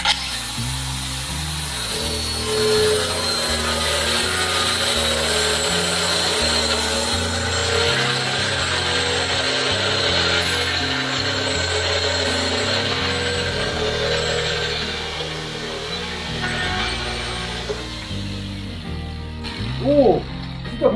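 A DeWalt DCG440 cordless 7-inch (180mm) 60V FlexVolt angle grinder cuts through material with a loud, continuous, gritty whine and rattling churn that runs nearly unbroken for about twenty seconds, with a brief voice near the end.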